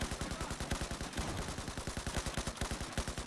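Rapid automatic rifle fire in the video game Battlefield 4, a dense, steady stream of close, loud shots with a few brief breaks, heard alone without speech.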